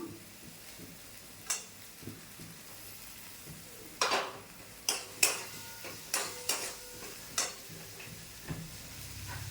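Tomatoes frying with spices in a pan, a soft sizzle under scattered clinks and scrapes of a spoon stirring against the pan.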